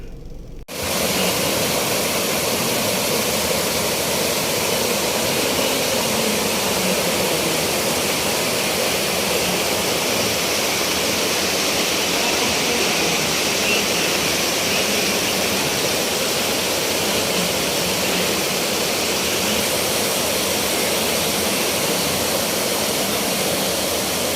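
Natural spring water flows at a resort in Laguna with a loud, steady, close rush that runs on without a break, and no voices are heard.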